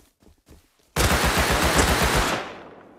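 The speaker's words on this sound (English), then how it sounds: "You can just shoot them. Shoot them right now." Rapid automatic fire from an M9 rifle in Rust Console bursts in loudly after a quiet second, a dense, steady run of shots that lasts over a second before trailing off.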